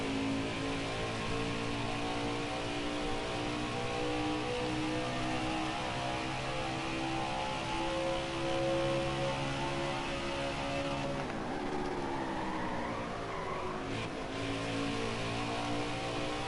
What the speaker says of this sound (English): downshifting to 2nd gear